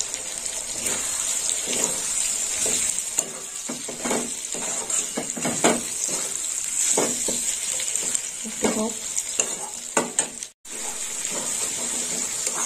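Two bay leaves hit a pan of frying spiced tomato for prawn chorchori, a steady bright sizzle with occasional stirring scrapes, briefly cutting out near the end before resuming.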